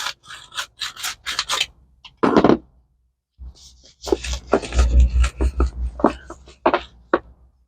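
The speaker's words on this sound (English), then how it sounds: "Again, starting by loosening up the soil around the pot." Soil is loosened around the inside of a bonsai pot holding manzanita or coffeeberry, making close, uneven rubbing and scraping strokes that come in bursts with a pause in the middle.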